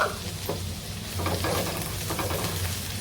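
Onion frying in ghee in a pan for morog polao, a soft steady sizzle with a few stirring scrapes, close and fairly quiet.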